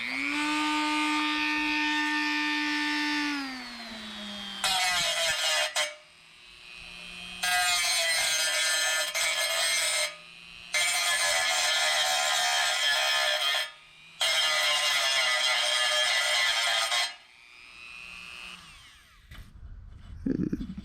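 Rotary tool grinding solder off the brass lower tank of an antique tractor radiator: a high whining spin-up, then four long bursts of loud, shrill grinding separated by short pauses, close and alone.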